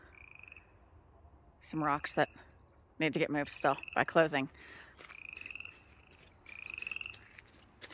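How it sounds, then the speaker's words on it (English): Frogs croak in repeated bursts close by in a pond in Conifer, Colorado, with a steady high trill in the background and someone speaking briefly between calls. "Those are the frogs that live in the pond"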